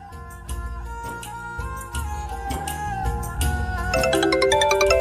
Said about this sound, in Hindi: ये तेरा फोन बज रहा है, किसका फोन है?